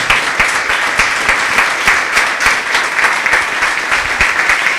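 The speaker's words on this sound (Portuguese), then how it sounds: "Palmas para o nosso Deus, bem forte." A church congregation claps loudly and steadily in a sustained round of applause praising God, the many hands blending into a dense, continuous patter with no talk over it.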